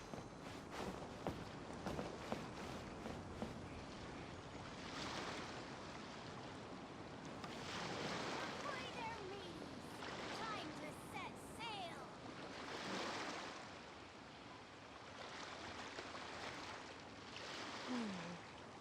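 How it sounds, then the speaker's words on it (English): Calm ocean waves wash gently in Genshin Impact, a steady soft surf hiss rising and falling over nearly twenty seconds with faint footsteps and wind. "The waves are as calm as always."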